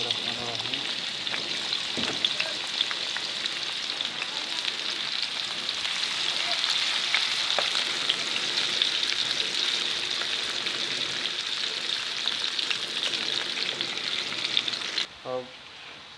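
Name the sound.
onions frying in oil for gussa sabzi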